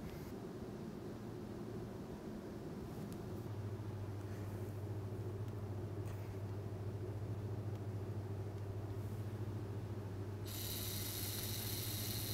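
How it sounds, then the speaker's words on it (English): A LEGO Mindstorms NXT DC servo motor runs at constant speed with a faint, steady low hum and whirr, quiet and unbroken, with a brighter hiss rising near the end. "the motor is running at a constant speed"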